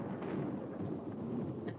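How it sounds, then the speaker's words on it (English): Rolling thunder and storm rumble from a public domain horror film, a steady low roar with faint crackle running throughout, moderately loud and continuous, with no voices. "Thunderstorm."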